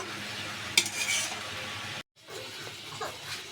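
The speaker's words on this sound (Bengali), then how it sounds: "মশলাটা ভালো করে কষিয়ে নেব" Spice paste for a fish curry sizzles in a pan and is stirred, with a clink of the utensil near the start, a short break, then softer sizzling and scraping, close by and fairly quiet.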